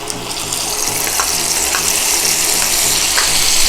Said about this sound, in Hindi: इसको भी अदरक के साथ फ्राई करेंगे।